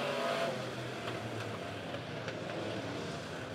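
Race cars accelerate at the start of an A-feature at Lebanon Midway Speedway, their engines a faint, distant roar that rises briefly and then holds as a steady drone, with no voices.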